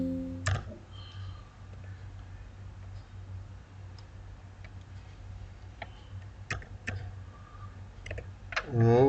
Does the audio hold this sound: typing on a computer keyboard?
yes